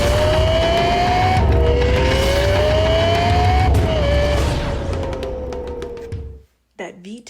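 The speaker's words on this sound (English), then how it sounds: "That V10 engine came alive, and suddenly it wasn't just noise." A Lexus LFA V10 screams at high revs, climbing through rising pitch sweeps with brief dips at the gear changes. It is loud and close, then fades and cuts off abruptly near the end.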